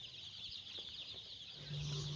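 Baby chicks in a brooder on a laying-hen farm, faint high-pitched peeping and cheeping as a steady chorus, with a low hum rising toward the end.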